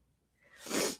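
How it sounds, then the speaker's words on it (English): A single close sneeze bursts out after a brief quiet lead-in, loud and breathy, ending within about a second with no talking. "Well, and I got to sneeze."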